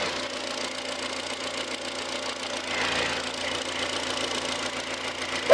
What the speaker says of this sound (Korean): 엔진 소리 바로 한번 들어보도록 하겠습니다.